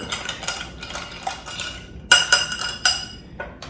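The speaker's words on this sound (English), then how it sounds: "and we give this a really good stir." A Manhattan cocktail stirred with ice in a glass, soft rhythmic swirling clinks at first, then a few louder sharp knocks of ice against glass, close up and without speech.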